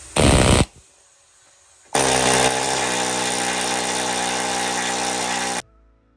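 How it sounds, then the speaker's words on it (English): Needle gun stripping rust and paint from a trailer: a short loud rattling burst, a pause, then a long sustained harsh hammering buzz that stops abruptly, close up with no talking. "I've got the needle gun because I've lost my grinder."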